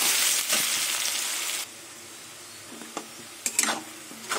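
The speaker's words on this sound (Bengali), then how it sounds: "নুন দিয়ে পেঁয়াজটাকে লাল লাল করে ভেজে নেব" Onions sizzle and fry with salt in a pan, a broad steady hiss that is loud for the first second and a half, then drops to a quieter crackle with a few brief stirring clinks and scrapes.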